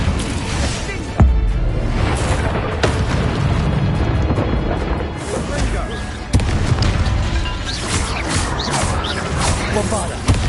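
Incendio fire spells cast in the Hogwarts Legacy video game during a fight, loud booming bursts at about one and six seconds amid continuous explosive clatter, with a voice shouting over the action.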